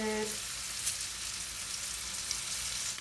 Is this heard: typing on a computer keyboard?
no